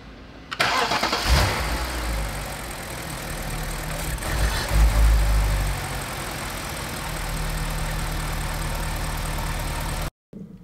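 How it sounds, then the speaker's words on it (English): A BMW E60 cranks and fires up after being reassembled from salvage, catching into a loud, steady idle that runs for several seconds before cutting off abruptly. "So now let's try and start it again."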